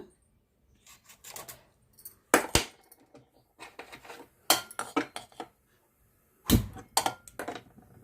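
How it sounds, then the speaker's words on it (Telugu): Metal pan clanks and bumps onto a stove in a home kitchen while making a raw mango and raw banana curry, with several sharp clattering knocks spaced apart over quiet pauses and no talking. "బాండి పెట్టాను, స్టవ్ వెలిగించుకుందాము."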